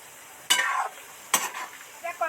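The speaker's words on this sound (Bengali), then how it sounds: "ফ্লেমটা একটু জোরে বাড়িয়ে দিয়েছি দিয়ে নাড়তে থাকছি" Banana fritters are stirred in hot oil in a pan over a high flame, with two sharp scraping stirs and a steady faint sizzle between them, close by and with no talking.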